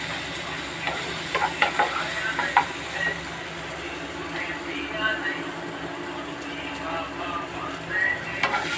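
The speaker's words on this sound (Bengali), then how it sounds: "গ্যাসের ফ্লেমটা অন করে ভালো করে ভাজবো" Spices fry in a pan over a gas flame while being stirred for a rohu fish and potato curry, with a soft sizzle, scraping stirs and a voice talking over the cooking.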